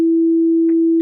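A pure, steady reference tone for the note F from a pitch-training app holds at one constant pitch for about a second, clean and loud with no voices.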